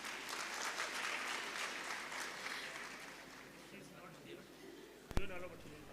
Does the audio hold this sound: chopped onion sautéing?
no